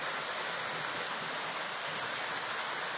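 A waterfall on the slope of Mount Pelawangan roars as a steady, dense hiss of falling water, unbroken and moderately loud throughout.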